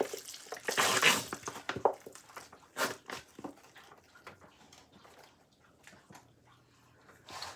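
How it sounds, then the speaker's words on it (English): Chicken stock being poured into a big soup pot for ham and bean soup, with soft splashing and gurgling in uneven bursts, fairly quiet and close. "Time to add some chicken stock."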